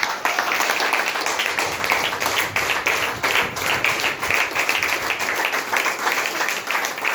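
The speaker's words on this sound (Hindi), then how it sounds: "जोरदार तालियां।" An audience at a stage event claps steadily and densely, a loud, continuous wash of many hands applauding throughout.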